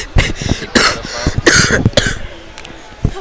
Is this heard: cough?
yes